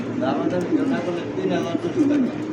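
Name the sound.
pigeon cooing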